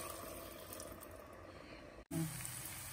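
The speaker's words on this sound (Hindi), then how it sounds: "अब उसी जार से हम इसमें पानी डालेंगे जिससे मसाला जो उसमें बचा वो भी इसमें आ जाए।" Water poured from a jar into a cooking pot to rinse out leftover spice paste, a faint steady trickle followed by a brief louder splash near the end.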